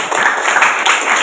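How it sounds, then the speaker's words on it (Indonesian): A classroom crowd claps steadily in dense, continuous applause, many hands at once, fairly close and loud throughout the short burst. "Tepuk tangan untuk Adi."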